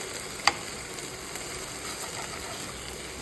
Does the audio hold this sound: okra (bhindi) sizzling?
yes